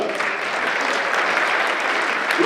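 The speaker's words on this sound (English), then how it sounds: "all of you give yourselves a great round of applause" Sustained applause from a government-meeting audience, a dense even wash of many hands clapping at steady loudness throughout.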